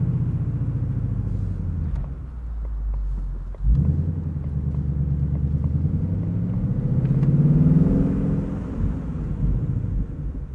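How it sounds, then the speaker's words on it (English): Deep, burbling exhaust from a 2020 Ford Mustang GT Convertible Performance Pack with six-speed manual, cruising slowly around a parking lot, a steady low rumble that swells briefly with throttle and settles back, alone and close. "one of my favorite cars to just cruise slowly around in a parking lot just because of how this exhaust sounds"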